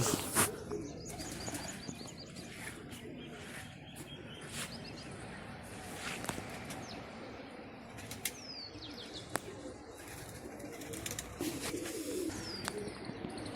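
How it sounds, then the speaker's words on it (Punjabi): Racing pigeons, four males and four females, are let out from a loft. Wing flaps burst out amid soft cooing and a few chirps, with sharp flutters at intervals over a quiet outdoor background and no talking. "ਛੱਡਤੇ ਆ ਬਈ ਸਾਰੇ ਚਾਰ ਕਬੂਤਰ ਆ ਤੇ ਚਾਰ ਹੀ ਕੂਦਰੀਆਂ"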